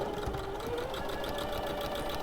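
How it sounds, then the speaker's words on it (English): A sewing machine stitches a fabric animal head with quarter-inch seams, its motor buzzing steadily up close with a fast, even rhythmic needle clatter throughout. "You've turned your sewing machine on, which is actually quite a useful thing to do."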